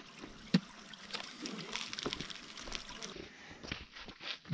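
Water pours from a spring spout beside a mountain trail on Pico Paraná, a faint, steady trickling and splashing that runs throughout, with a sharp knock near the start.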